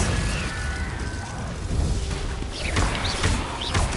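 Spell-casting blasts in Hogwarts Legacy, a loud roaring burst followed by crackling impacts and whooshes in a dense, continuous wash of game effects.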